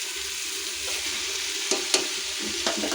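Mint leaves are stirred into sizzling masala for homemade chicken biryani: a constant close frying hiss, broken by a few sharp scraping stir clicks.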